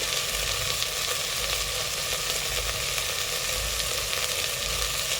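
Spices and potatoes frying in hot oil for a quick potato curry, a dense steady sizzle and crackle close up, continuous and loud without pause or talk.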